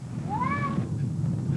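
A single rising-then-falling cat meow, clear and fairly close, over a steady low rumble of background noise.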